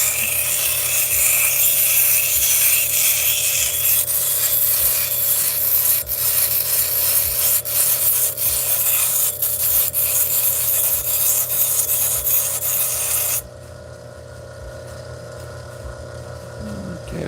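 A tiger's eye stone has its back trimmed down with a lapidary tool: a steady, loud, continuous grinding rasp that holds for most of the clip, then drops to a quieter hum.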